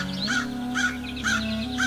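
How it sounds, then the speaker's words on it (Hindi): A crow caws in four evenly spaced, hoarse calls, loud and close, used as a sound effect in an animated story. "उसमें से एक छोटा सा कौवे का बच्चा बाहर निकला।"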